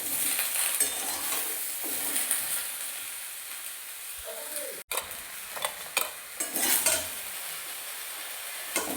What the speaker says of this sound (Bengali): এরপর আমি ভালো করে সব কিছু একসাথে নেড়ে ভেজে নেব।